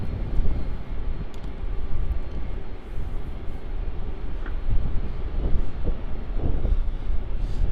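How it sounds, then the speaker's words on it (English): An Air New Zealand Airbus A321neo takes off at Melbourne Airport, its jet engines giving a steady, broad rumbling roar at moderate distance throughout, with no voices. "I'm going to film this Air NZ takeoff."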